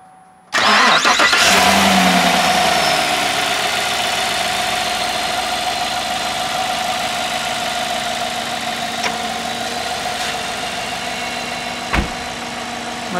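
A 5-litre V8 pickup truck engine with a 6-speed automatic cranks over and starts, then settles into a steady, even idle heard close up for several seconds with no talking.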